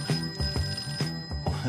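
Telephone bell ringing in a home set in 1971, heard as repeated short bursts of ringing, loud and close, with no talking.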